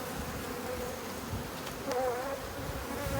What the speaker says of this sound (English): So you've got all the bees there on that frame holder